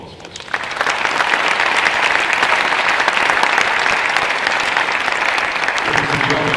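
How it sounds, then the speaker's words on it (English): An audience at the DP World Pavilion at Dubai Expo 2020 bursts into loud, sustained applause that swells quickly and holds dense and steady, with faint voices mixed in. "Can we give them a round of applause"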